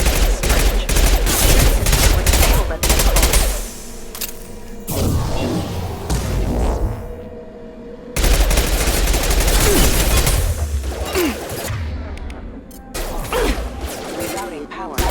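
Rapid bursts of Fenris mech gunfire in Mass Effect 2 clatter loudly and repeatedly, mixed with crashes and impacts, pausing briefly before resuming in dense volleys.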